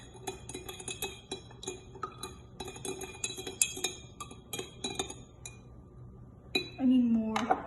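Blue food coloring stirred into a sensory bottle, a utensil rapidly clinking and ticking against the container in a close, bright, irregular rhythm, ending in a brief squeaky rubbing tone.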